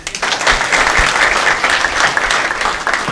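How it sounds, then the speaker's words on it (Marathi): Audience applause at a devotional discourse on Tukaram Maharaj's abhangas, steady dense clapping from a crowd filling the whole stretch at a fairly loud level. "खरंच खरंच त्यांच्याकरता टाळ्या वाजतात"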